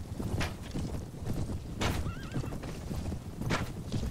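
A horse in the Mount & Blade video game neighs loudly over a steady drumming of galloping hooves, with further whinnies rising above the hoofbeats through a battle.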